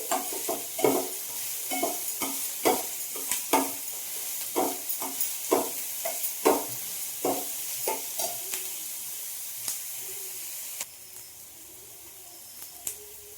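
Onions and greens frying in a pan, with a steady sizzle broken by repeated scraping stirs that come in a regular rhythm. The stirs fade near the end and leave a quieter hiss of oil, close by with no talking.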